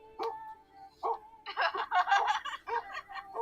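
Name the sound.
dog barking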